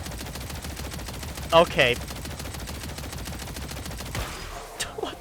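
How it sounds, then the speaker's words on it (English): Rapid gunfire from the Artemis medic gun in Killing Floor 3 rattles steadily through the whole stretch, with a brief louder burst and a few scattered bangs near the end, while a voice briefly speaks. "All I did was just start shooting with it, and then it decides that all hell breaks loose"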